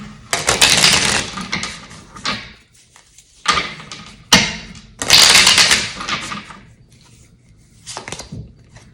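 A mini deck of playing cards being shuffled hard, with several bursts of crisp riffling and clattering separated by short pauses, close up and with no talking.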